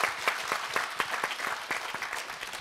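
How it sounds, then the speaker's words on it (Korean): An audience at a memorial talk concert for Cardinal Kim Sou-hwan, marking ten years since his death, gives the cardinal a round of applause: many hands clapping steadily at moderate volume, tapering slightly toward the end. "추기경님의 큰 박수 쳐드리시고요"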